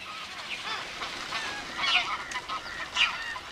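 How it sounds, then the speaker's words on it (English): Tens of thousands of migrating waterfowl from Siberia, Mongolia and China gather in Indian marshes, their goose-like honks and calls overlapping in a steady distant chorus with a few louder nearer calls rising above it. "the marshes are bursting with the arrival of tens of thousands of waterfowl from Siberia, Mongolia, and China"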